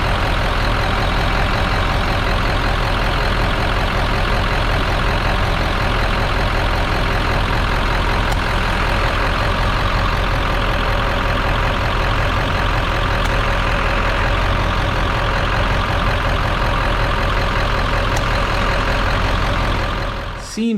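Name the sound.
old Ford diesel engine idling with AC clutch engaged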